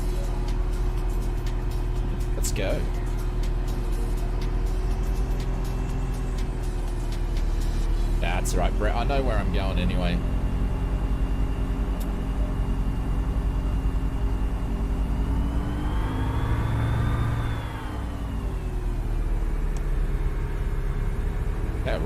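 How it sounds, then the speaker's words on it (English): A simulated aircraft in Microsoft Flight Simulator 2024 taxis on the ground with flaps down, giving a steady engine drone and rumble that rises and falls in pitch, with someone talking over it. "We're going to pop the flaps down and we're going to taxi over."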